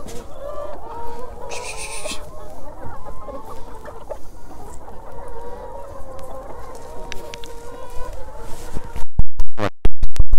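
A flock of hens clucks and murmurs continuously nearby at feeding time on a mobile chicken farm, with occasional louder squawks and a few sharp rattling knocks near the end.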